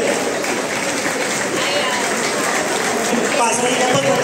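An audience claps loudly at a Mumbai community award ceremony, the 50th prize-giving of the Somvanshiya Sahastrarjun Kshatriya Samaj, a sustained wash of applause with someone talking over it through a loudspeaker.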